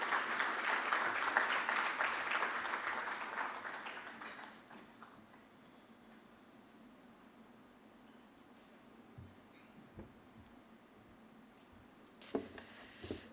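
Audience applause at the Future of Energy Conference 2025, a burst of clapping from a seated crowd that fades out after about four seconds into quiet room tone, with a few faint knocks later.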